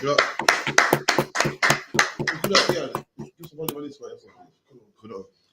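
A group claps hands together in a religious class, a run of loud, fairly rhythmic claps for about three seconds, then sparser, fainter taps and voices.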